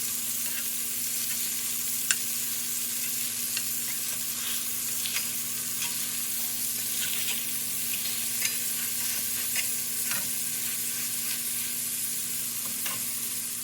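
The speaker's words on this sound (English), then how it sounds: "where I'm frying this sausage" Sausage fries in a pan for a dinner-roll recipe, giving a continuous close sizzle and crackle with occasional small pops and spatter, with no talking.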